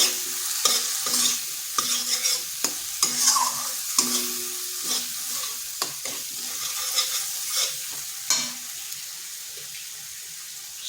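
Spice paste for a vegetarian dal bora curry, with potatoes already added, being stirred and sautéed in a pan: steady sizzling under repeated spatula scrapes and knocks against the pan, close and fairly loud, with no talking.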